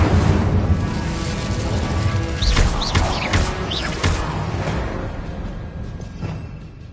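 An Incendio fire spell cast in Hogwarts Legacy, a loud roaring whoosh of flame with rumbling thuds and a few rising whistling streaks, fading gradually toward the end without any talk.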